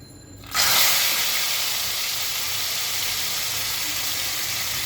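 Chicken pieces drop into a pan of very hot, smoking oil, bursting into a loud, steady sizzle that starts suddenly and holds close and constant.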